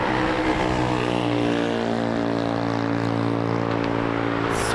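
Air France Airbus A350-900 jet airliner roaring loudly nearby, a sustained engine rumble with steady tonal whine that holds throughout, no voices.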